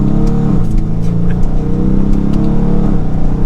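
2023 Dodge Challenger R/T Plus with an 8-speed automatic accelerating hard in sport and manual mode: a loud, close, continuous engine roar that rises in pitch through the gears, with brief dips at each shift.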